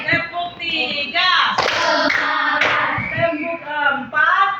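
A class of pupils sings or chants in unison during a clapping routine, with a few sharp hand claps landing in the middle of the phrase.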